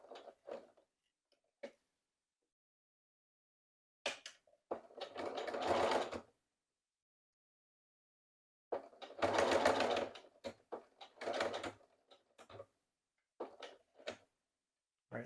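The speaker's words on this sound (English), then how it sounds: "now I'm going to sew along this edge until I get to the other corner" A sewing machine stitching along a fabric edge toward a corner runs in two loud mechanical bursts of rapid whirring, separated by silence and broken by short clicks and handling knocks.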